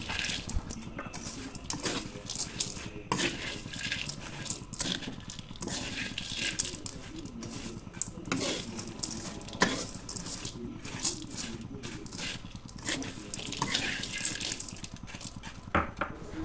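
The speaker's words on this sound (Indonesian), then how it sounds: "Jadi buru-buru ini diaduk dengan cepat agar bumbunya ini merata." Potato chips being stirred quickly with sugar seasoning in a pan or bowl for crispy Mustofa potatoes, giving a busy, continuous scraping and rustling with frequent clatters, close and fairly loud, with no talk.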